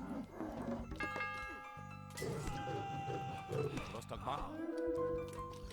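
A bell in the strategy game Age of Mythology rings out in clear sustained tones, struck twice a second or so apart, partly under someone talking and busy battle noise.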